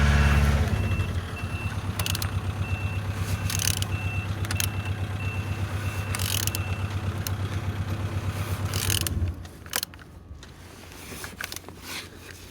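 A truck engine (MV57VUB, T44) is cranked over, giving a loud, steady low mechanical drone with a faint repeating beep. The drone cuts off after about nine seconds, leaving a quieter rattle and clatter behind.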